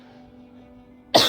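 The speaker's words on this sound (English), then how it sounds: "Sorry, it's a cold season here. I'm a little coughing." A single short cough bursts out near the end after a quiet stretch, close and fairly loud, from a person with a cold.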